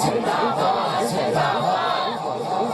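A large crowd at a religious mahfil gathering chants a slogan in unison, a dense continuous roar of many voices filling the space at steady loudness.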